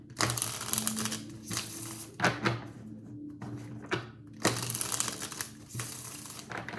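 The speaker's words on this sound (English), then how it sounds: "Shuffling for Scorpio." Tarot cards shuffled by hand in bursts of dense papery riffling and crinkling, close up, with short gaps between rounds and no talking.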